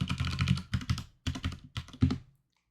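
A password typed on a computer keyboard comes through as close, crisp keystrokes in short bursts with brief pauses, ending in silence.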